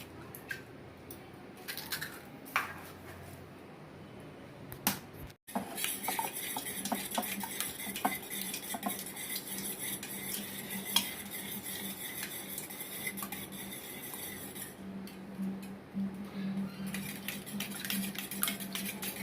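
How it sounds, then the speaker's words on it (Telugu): Rapid, continuous clinking and swishing as five eggs are whisked in a bowl with a utensil for cake batter, close by and fairly steady after a brief pause. "ముందు ఎగ్స్ కొట్టి పోసేసుకుంటామండి"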